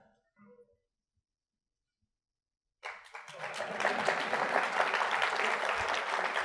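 Silence with a brief faint sound gives way to audience applause at a tech talk about a CDN for npm packages, the clapping starting suddenly, then swelling into sustained, full applause from a sizable crowd.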